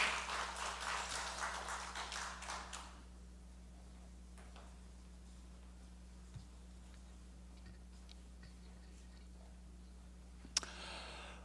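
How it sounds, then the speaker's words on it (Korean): A church congregation at a Sunday service claps in blessing. The applause is dense at first and fades out within about three seconds, leaving a quiet room with a faint tick or two. "다시 한 번 더 우리 축복의 박수 하겠습니다"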